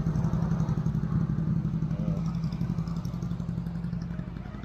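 A Japan-assembled inline-four motorcycle engine runs at a steady, even idle, close and continuous, with a slight mechanical clatter and no talk.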